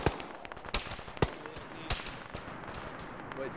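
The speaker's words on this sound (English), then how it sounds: "I was just shooting in the direction of fire. Everyone opened up at the same time." Sharp bursts of gunfire in a ShackTac Arma firefight, several loud close shots at irregular intervals over a crackling, rumbling background of more distant shooting.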